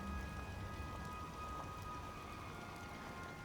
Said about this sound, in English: It rains quite often down here as the default weather, and it just adds a very moody kind of ambience and atmosphere here.